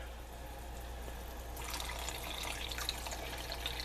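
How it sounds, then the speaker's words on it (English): Water being poured into a cooking pot while making a Spanish dish: a quiet background hum, then a close, steady splashing rush of running water starting midway and continuing to the end. "now I'm going to add some water."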